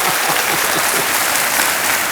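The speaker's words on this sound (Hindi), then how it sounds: "एकदम ताली बजा दीजिए हमारे ज्ञान को" A studio audience on the quiz show KBC bursting into loud, dense applause, a continuous wash of close clapping from many hands filling the whole moment without a break.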